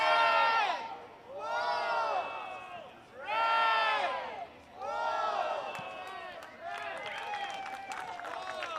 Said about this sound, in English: fans getting into action here from David Stanton Field, cheering on the Red Wolves